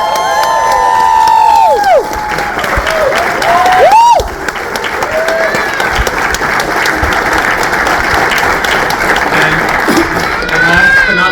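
A convention audience applauds and cheers loudly in a sustained roar of clapping, with whoops and shouts rising above it and brief lulls before the crowd swells again.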